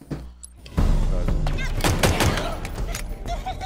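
Pistol gunfire in the video game Halo Infinite: a quick series of sharp, loud shots and thuds crowding together in a busy burst of game combat noise.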